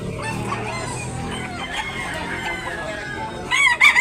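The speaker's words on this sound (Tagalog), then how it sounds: "Indot ng manok." Roosters crow repeatedly at a chicken market in Tabunok, Talisay, Cebu. Several loud calls overlap near and farther off, with clucking between them, and a brief burst of voices comes near the end.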